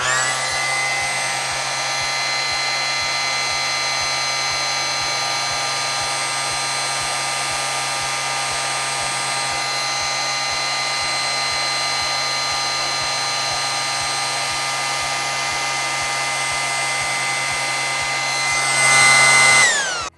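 An electric beard trimmer buzzes steadily and loudly at close range, a constant motor hum with a bright whine trimming stray beard hairs, running alone for the whole stretch before a brief louder shift near the end.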